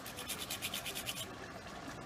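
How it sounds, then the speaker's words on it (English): Nutmeg grated on a rasp straight into a warm cream sauce for Greek pastitsio, a quick run of soft rhythmic scraping strokes up close that stop partway, leaving quiet kitchen background. "So I'm just grating some nutmeg directly into the sauce"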